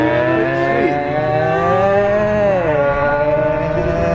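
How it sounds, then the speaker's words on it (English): Loud motorcycle passing close by on a city street near a river, a steady engine roar with shifting pitch that rises and falls as it goes by, no talk over it. "There's a loud motorcycle."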